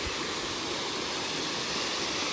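Water rushing down a mountain stream on the trek to Kudremukh peak in Karnataka, early in the monsoon season; a steady, dense broadband rush that holds even and unbroken throughout, with no voices.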